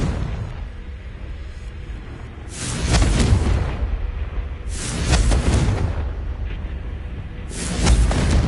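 The Confringo fire spell is cast in Hogwarts Legacy, producing three loud, booming explosive blasts spaced a couple of seconds apart over a constant low rumble of game ambience.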